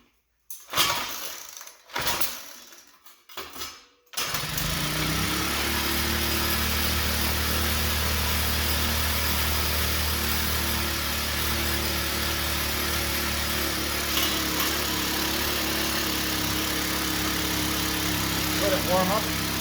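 An old Troy Bilt four-cycle rototiller, repaired after being taken from the dump, is started with the choke on. A few uneven pull-start attempts sputter, then the small engine catches and runs at a loud, steady idle throughout.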